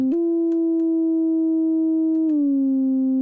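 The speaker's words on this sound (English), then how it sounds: "you're hearing it gliss up and down as I turn on and off that ADSR envelope" A steady synthesizer tone with harmonics in VCV Rack slides up at the start, holds, then glides down in pitch as an ADSR envelope is switched on and off, with faint clicks along the way.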